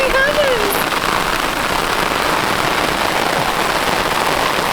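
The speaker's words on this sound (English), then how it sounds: "It's a lot of rain." Heavy thunderstorm rain pours steadily and loudly over an outdoor spot behind the Tetons, a dense unbroken hiss filling the whole stretch, with brief voices cutting in near the start.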